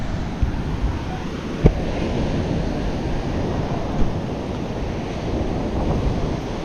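Sea waves roll in with steady wind buffeting the microphone, a continuous broadband wash with a couple of brief thumps, heard close with no talking.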